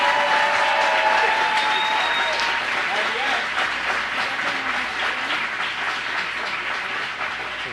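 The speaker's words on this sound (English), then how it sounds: "Big round of applause for Adam Sosnick." Studio audience applauds loudly to welcome guest Adam Sosnick onto a live show's stage, a dense, steady burst of clapping with some voices mixed in that eases slightly toward the end.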